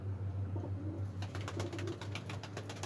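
Pigeons in a loft give soft low coos over a steady low hum, with a few scattered rustles in the last half of the short stretch.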